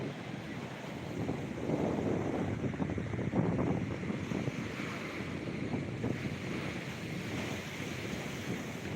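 Rough full-moon sea surf at Digha beach, a steady loud roar of breaking waves mixed with wind buffeting the microphone, swelling slightly in the middle and rolling on continuously without any talk.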